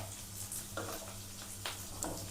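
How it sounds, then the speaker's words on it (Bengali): Lentils (dal) for a homemade vegetable sambar stirred in a hot pan, with a few soft scraping strokes over a low, steady sizzle and a faint background hum. "ডালটাকে একটু ভালো করে"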